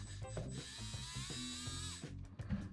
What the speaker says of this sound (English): I'm gonna run the motor and listen to it as I adjust it a little bit.